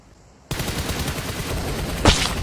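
Gunfire in PUBG Mobile bursts in abruptly, a dense, loud stream of rapid automatic shots that continues steadily, with a brighter louder crack near the end.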